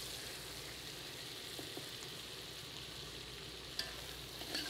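Garlic masala and other ingredients for a vegan butternut squash pasta fry in a pan with a soft, steady sizzle, faint and even, with a light stir or clink near the end.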